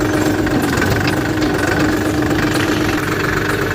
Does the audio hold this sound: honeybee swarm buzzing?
no